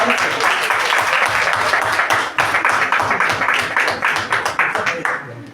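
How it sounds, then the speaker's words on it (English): Student audience in a classroom gives a loud round of applause, starting as dense clapping and settling into rhythmic, evenly spaced claps near the end. "Give her a big round of applause."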